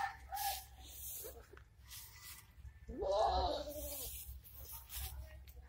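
A goat on a farm in Dheakiajuli, Assam, gives a single clear bleat partway through, close and fairly loud above a low, steady background hum.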